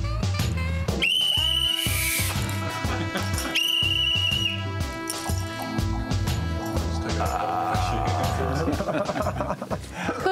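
Referee-style whistle blown in two sharp shrill bursts amid loud music and crowd noise at a rugby centre event.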